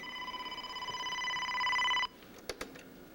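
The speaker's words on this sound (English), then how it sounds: "And this is our phone." A home telephone rings with a steady electronic trill that swells and then cuts off abruptly, followed by a couple of faint clicks.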